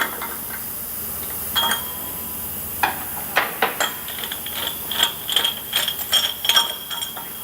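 Metallic clicks and ratcheting taps from a special tool releasing the hub nut on a Toyota Land Cruiser 70 Series free-wheeling hub, a series of close, irregular sharp clinks growing busier toward the end, no talk.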